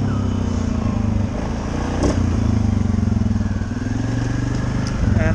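A Suzuki KingQuad ATV engine drones steadily at high revs during a wheelie, with a loud, close, continuous buzzing note and slight surges near the end.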